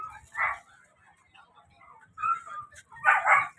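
A dog gives short barks and whimpering yips in a few bursts, close by, with quiet gaps between them and a person talking.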